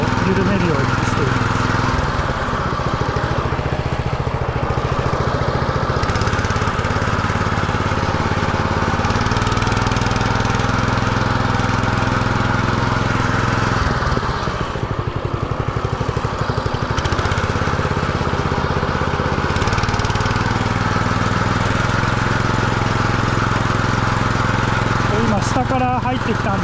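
Greens mower cutting a golf course green, a loud steady engine drone that rises and dips slightly as it slows for turns, close up, with someone talking over it at times.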